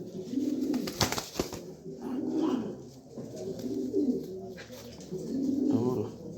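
Several pigeons coo in low, throaty, repeated phrases close by, with a brief flutter of wings partway through.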